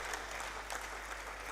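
Audience applause at a renewable energy conference, a steady wash of clapping from a seated crowd that holds at an even level throughout without a clear peak or fade.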